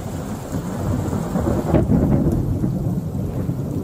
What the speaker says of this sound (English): Roaring booms of thunder and streaks of light cut across the Southern California sky